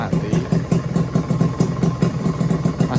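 A two-stroke motorcycle engine with an oversized cylinder block and original CDI idles close by in a rapid, even pulsing putter with regular beats, steady and fairly loud.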